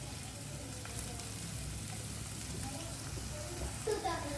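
Chopped garlic, spring onion and onion sautéing in a pan for sweet corn soup. A continuous, even sizzle of frying stays close, with faint stirring clicks near the end.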